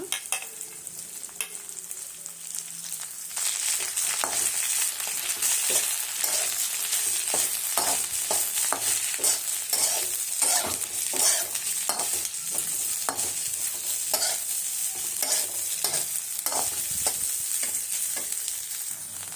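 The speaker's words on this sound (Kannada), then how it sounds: "ಕಟ್ ಮಾಡಿ ಅಂಥ ಬೆಂಡೆಕಾಯಿ ಹಾಕ್ತಾಯಿದ್ದೀನಿ ಇದನ್ನ ಚೆನ್ನಾಗಿ ಫ್ರೈ ಮಾಡ್ಕೊಂಬಿಡೋಣ" Cut okra frying in a few spoons of oil in a pan, with a continuous crackling sizzle and repeated spatula scrapes and clatters of stirring throughout, close and fairly loud, and no speech.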